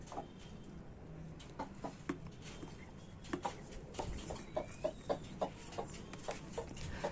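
Backyard chickens eat flour feed, pecking fast and giving soft, scattered clucks at close range over a steady rustling background, with no talk.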